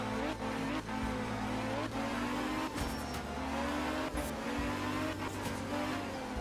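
A rally car engine roars steadily in the art of rally video game in Norway, revving and shifting through gears with brief tire noise, loud and continuous with no talk.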